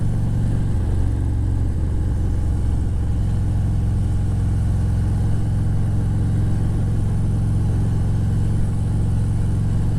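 A motorcycle rides along a road right at the edge of a windy lake, its engine a steady low drone with wind rush blended in, constant and fairly loud throughout with no speech.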